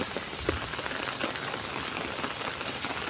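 Steady rain pattering on a hard surface, a dense continuous hiss with no voices.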